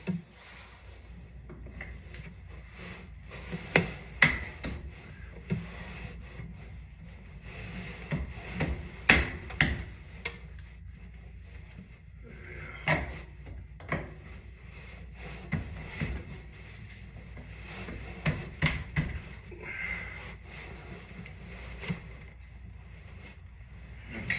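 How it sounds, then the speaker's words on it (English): Wooden trim is pried off near an attic opening for a ladder install, with irregular creaks, knocks and sharp wooden cracks at scattered intervals, fairly close and moderately quiet in a still room. "So we're gonna pop off this trim"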